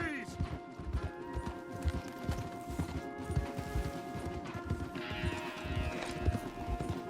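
Horse hooves clip-clop in a steady, close rhythm in Red Dead Redemption 2, with tack jingling, a whinny and a voice talking over them.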